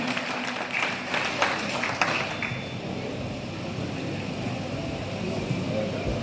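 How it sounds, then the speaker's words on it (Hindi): Applause from a community crowd at a Pakistan Independence Day celebration as a guest comes on stage to hand over medals, a few sharp claps rising out of steady crowd noise and low rumble before settling into a continuous, moderately distant wash. "भरपूर तालियां जी इनके लिए जी जनाब अहमद असल्लूम।"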